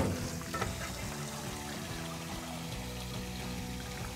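Cold water is poured into a bowl to rinse sushi rice, a steady close rushing splash that holds for several seconds with faint tonal background music underneath.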